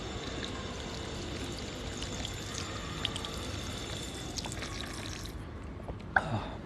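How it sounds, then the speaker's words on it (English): Water pouring steadily from a public drinking fountain on a street in Nippori, Tokyo, a continuous close splashing stream that cuts off near the end with a small clink. "Just gonna get some water from here."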